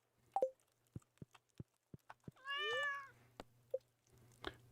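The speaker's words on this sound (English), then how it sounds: "Night, kitty cat." A cat meows in a farming video game, one drawn-out, wavering meow standing out in the middle among scattered short game clicks and blips, fairly faint and with no talking.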